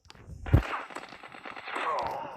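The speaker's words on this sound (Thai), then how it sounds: "ปืนอะไรยิงวะ" Gunfire in a first-person shooter game aimed at the player: a sharp, loud shot near the start, then a rattling burst of shots and impacts that fades out over a couple of seconds.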